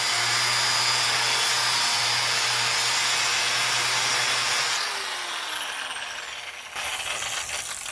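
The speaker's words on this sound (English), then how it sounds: "I'm really pleased with the discovery of the cutting wheel" A cutting wheel runs steadily through wood in a shop at night, a loud continuous whine that shifts in tone partway through as the cut binds, then picks back up.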